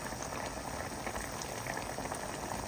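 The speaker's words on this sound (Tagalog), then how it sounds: "pakuluan lang po natin ang ating kalabasa" Squash pieces boil in a pot of water for a mixed vegetable dish, a constant close bubbling and rolling simmer with no voices.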